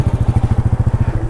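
A Royal Enfield Meteor 350 motorcycle engine thumps in a steady, rapid, even pulse, loud and close, as it runs after starting.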